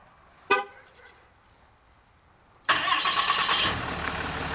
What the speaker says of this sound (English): Got a neat feature called remote engine start.